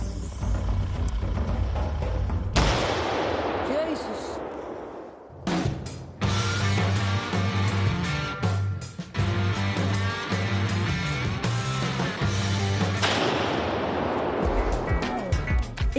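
Loud fireworks at a December fireworks demonstration in the Netherlands, with dense repeated bursts and crackling salvos filling most of the stretch, a brief lull near the middle, and a voice exclaiming once over the noise.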